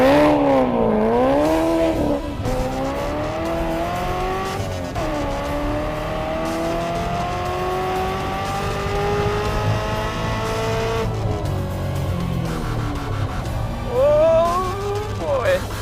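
A new Chevrolet Corvette revs and accelerates, its engine note climbing through repeated sweeping rises with a few sharp squeals, while people talk and react in the cabin throughout.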